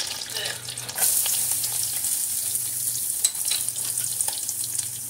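Garlic dropped into hot oil in a pan sets off a bright, crackling sizzle that jumps louder about a second in and stays steady, with a low hum and faint clinks underneath.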